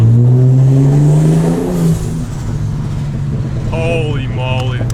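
A car fitted with a 400HP Ford Barra engine and a short-ratio LSD accelerates hard, its engine note loud and close, climbing in a strong rising pull and then easing off as a voice speaks briefly near the end.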